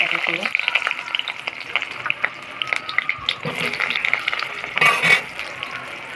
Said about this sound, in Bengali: তেলের মধ্যে টুকরো করে আলুগুলো দিয়ে দেবো